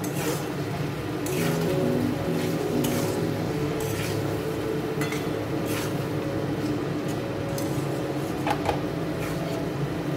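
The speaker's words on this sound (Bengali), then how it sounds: "পনিরগুলো ভেজে রেখেছিলাম যে ছানাগুলো, ওগুলো একটা করে মিশিয়ে দিলাম" Fried paneer pieces being stirred into a cooking pan for a Raksha Bandhan dish, with steady scraping and clinking of a utensil against the metal and a low continuous sizzle throughout, no talking.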